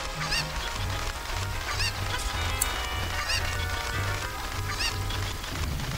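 Cucco chickens in the game Zelda: Ocarina of Time make repeated honking, squawking clucks over a dense, continuous game soundtrack with a pulsing low beat.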